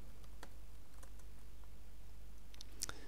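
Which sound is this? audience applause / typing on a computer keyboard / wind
typing on a computer keyboard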